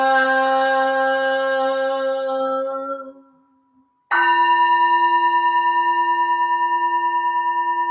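A bell rings and its tone slowly fades, then after a short silence it is struck again, sounding a long clear ringing tone with steady overtones.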